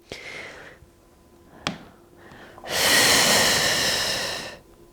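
Breaths in and out during a plank hold in a postpartum mobility workout: a soft inhale, a sharp catch, then a long, loud, close exhale lasting about two seconds.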